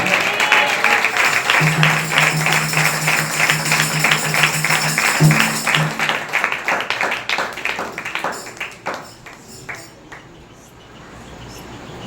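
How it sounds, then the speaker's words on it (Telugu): Congregation at a church gathering clapping loudly in a fast steady rhythm with singing over it, the claps thinning and fading out toward the end. "గట్టిగా చప్పట్లు కొట్టి ప్రభుని కనపడతా."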